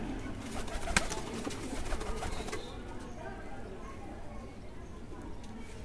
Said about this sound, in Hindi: एक और कबूतर भी मेरे हाथ में आ गया अब